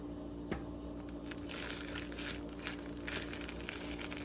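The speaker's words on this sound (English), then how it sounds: "my chicken is going to go inside of the bag with the seasoning." Raw chicken tumbled with jerk seasoning inside a plastic bag, giving a steady close crinkling and squishing with soft crunchy rustles and no talk.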